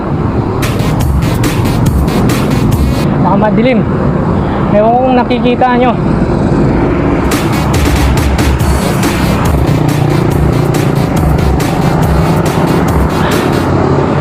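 Busy city street traffic at night in Bonifacio Global City, heard from a bicycle: a continuous, loud rumble of engines and passing vehicles, with a few horn-like tonal bursts and someone talking over it.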